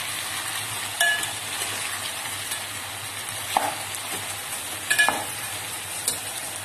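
Grated ginger sizzles in hot oil for masala khichdi, a steady fry under occasional scrapes of a stirring spoon against the pan, close and moderately loud with no talking.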